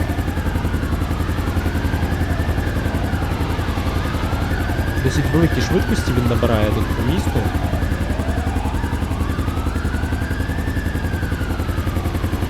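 A police helicopter in GTA 5 flies over the city, its rotor and engine a steady close drone with a sweeping, rising and falling whine, while someone talks over it throughout.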